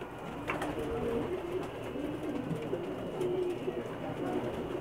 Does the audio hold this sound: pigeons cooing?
yes